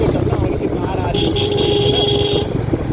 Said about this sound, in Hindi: गाड़ी का हॉर्न भी ठंड में हो गया है जाम।